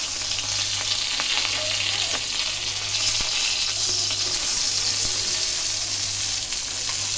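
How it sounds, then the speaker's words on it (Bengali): Fish frying in a pan for bhuna, a steady close hiss of hot oil with faint scraping and stirring clicks, continuous and alone without talk. "মাছটা হয়ে গেলে এখন এটা ভুনা বসাই দেবো"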